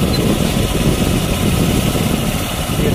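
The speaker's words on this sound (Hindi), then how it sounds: "बाइक चला रहे हैं और बाइक से जा रहे हैं हम लोग जंगल" A motorcycle carrying two riders toward a forest, its engine a steady, close, loud low drone with continuous rumble and wind, no voices over it.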